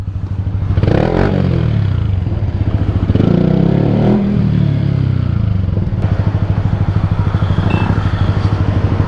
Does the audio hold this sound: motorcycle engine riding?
yes